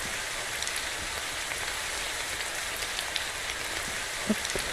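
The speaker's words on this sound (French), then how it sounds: "Mais là, il pleut complètement et du coup," Heavy rain pours down steadily outdoors, a dense, even hiss with occasional louder drops close by, unbroken from start to finish.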